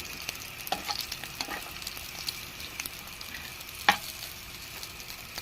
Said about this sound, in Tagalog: Padilawin nyo muna yung bawang, guys.